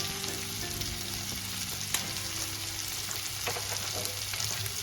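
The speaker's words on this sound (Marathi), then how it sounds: "भाजून घ्यायचं आहे, फ्राय करून घ्यायचं आहे तेलामध्ये।" Macaroni ingredients fry in hot oil in a pan with a steady, dense sizzle, broken by scraping stirs and occasional sharp pops, close up and with no talking.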